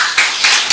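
Brief burst of clapping from a church congregation at a pastor's birthday celebration, a few seconds of dense overlapping hand claps, fairly loud and close.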